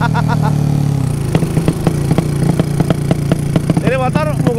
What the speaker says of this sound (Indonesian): Ini motor menggunakan karbu